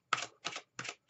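Tarot cards are shuffled in three quick, crisp riffling bursts close to the microphone, each separated by a brief silence.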